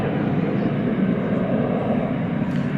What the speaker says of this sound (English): That FedEx flight headed to Memphis.